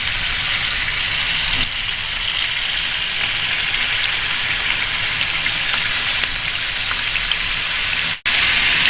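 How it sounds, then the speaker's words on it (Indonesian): Vegetable samosas wrapped in wonton skins frying in hot oil, a loud, dense, continuous sizzle like heavy rain close by, steady throughout with a faint clink and a brief cut near the end. "nanti tinggal kita goreng"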